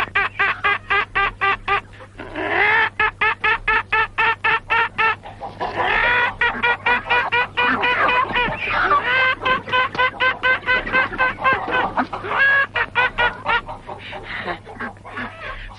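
Loud, rapid clucking and squawking like a chicken carries on steadily for several seconds, with a low constant hum underneath, from a Franco e Ciccio mod of American Secret Service.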